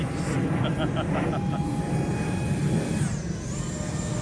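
Hobbyking 50mm F-16 Falcon electric ducted-fan model jet in flight, a steady whining roar heard outdoors at a moderate distance with wind noise, its pitch shifting slightly near the end.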